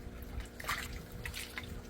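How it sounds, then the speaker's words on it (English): Soft splashes and drips of water from fish in an aquaponic system stirring the surface as they go for food, with a low steady hum underneath. "These guys splashing that food."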